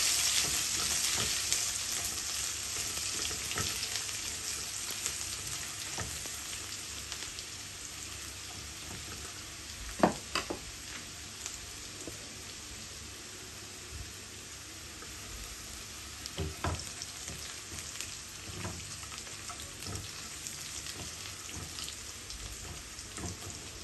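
Chopped garlic fries in hot oil in a pan as a soft, steady sizzle, with a few clinks and stirring sounds breaking in now and then. It stays fairly quiet throughout.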